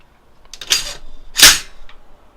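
An AR-15 rifle's charging handle is pulled back and released, making two quick sharp metallic clacks close up, each a short burst, with no talking.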